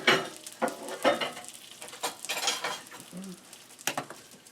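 Curry sauce is spooned over Jamaican chicken meatballs in a bowl, giving close, wet scraping and splashing scoops in uneven bursts, with light clinks of the spoon and a soft sizzle underneath. No voices are heard.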